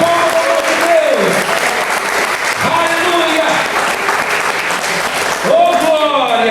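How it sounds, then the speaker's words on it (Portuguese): A church congregation at a Sunday thanksgiving service breaks into loud, sustained applause, dense clapping filling the room, with a voice calling out over it at moments. "Uma salva de palmas ao nome de Deus."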